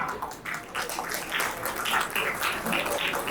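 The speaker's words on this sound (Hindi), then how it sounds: "उनके लिए जोरदार तालियां" Audience applause at a Hindi-language motivational talk, a steady wash of many hands clapping with dense, irregular bursts, fairly close and continuous throughout.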